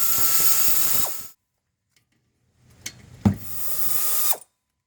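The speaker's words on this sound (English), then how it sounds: "Took both bolts off the caliper." A ratchet loosens brake caliper bolts on a 2010 Honda Accord during brake pad and rotor replacement, giving two quick bursts of dense clicking separated by a short silence, with a metallic clunk, close by.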